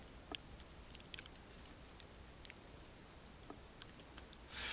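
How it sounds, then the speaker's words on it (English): Quiet, scattered typing on a computer keyboard, with sparse key clicks spread across the stretch and a brief louder rustle right at the end. "I want to type in gel"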